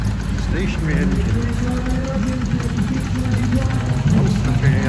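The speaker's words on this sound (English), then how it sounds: "Stationary engine." An old stationary engine runs at a vintage show, a steady low rhythmic chugging under close, busy crowd chatter and voices.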